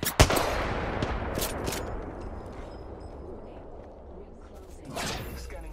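Sharp gunfire bursts in a battle royale shooter, with a loud crack at the start and scattered shots later over a dense, rumbling background of game ambience and distant firing.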